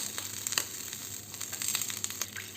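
Butter melts in a pan while being clarified for cold baklava, giving a soft, close crackling sizzle with faint scattered pops.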